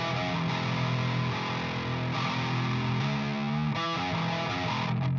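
A heavily distorted prog metal electric guitar tone chugs and rings steadily for several seconds, dense and loud, with brief gaps where chords change and no voices.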